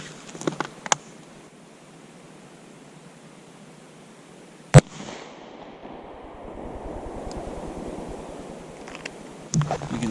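A single 9mm gunshot fired at a bargain bin book cracks out sharply and loudly in an outdoor range setting, one brief blast amid faint wind and a few scattered clicks and knocks.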